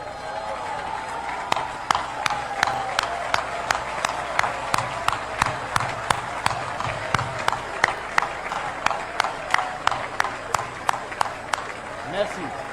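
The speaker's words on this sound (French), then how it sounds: "je vais vous prier une fois de plus de vous lever et d'applaudir pour le président Iya Mohamed." A standing audience claps in unison for a president, producing steady rhythmic synchronized claps about three per second over a crowd murmur, loud and close, continuing for the whole stretch.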